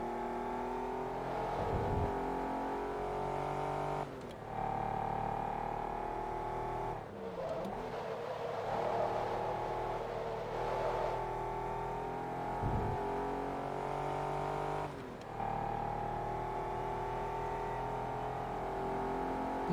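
A race car in Forza Motorsport 2 revs hard toward its 7,000 RPM limit on a fast circuit, its engine droning steadily with several brief dips as gears change, loud and close throughout.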